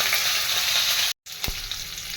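Curry leaves, cumin and hing hitting hot oil on a low flame for vada pav masala, a loud bright spluttering sizzle that cuts out briefly, then resumes with a sharp pop.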